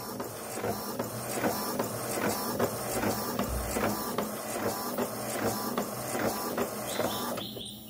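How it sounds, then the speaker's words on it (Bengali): A printer prints out a design for a t-shirt, giving off a steady rhythmic mechanical whir with repeated clicks and pulses as the print head moves back and forth close by. "একটা প্রিন্ট আউট আমি এখানে তৈরি করছি"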